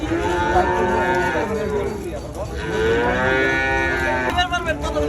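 A newly bought cow on a farm moos loudly and close, with long drawn-out calls filling the clip and a brief break in the middle.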